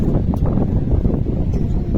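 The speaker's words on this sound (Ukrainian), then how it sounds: "Вже такий вітер здійнявся." Strong wind before a thunderstorm buffets the microphone in a forest by a lake, with a continuous low roar and gusty rumble, with no voices.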